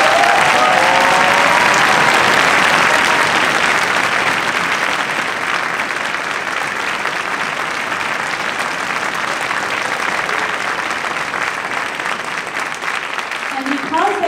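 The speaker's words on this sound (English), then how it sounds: "So please give him a round of applause." Sustained audience applause at a high school orchestra family concert, dense steady clapping from a large crowd that carries on for the whole stretch and eases slightly toward the end, with a few faint voices mixed in.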